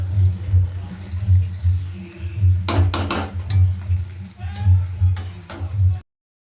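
A spiced curry fries in a pan in a small windowless home kitchen, a steady sizzle with rhythmic stirring scrapes and a few sharp utensil knocks near the end.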